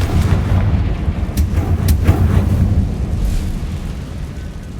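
The Confringo spell in Hogwarts Legacy lands as a deep, rumbling fiery explosion, loud and close, with a few sharp crackling pops over the roar before it fades away.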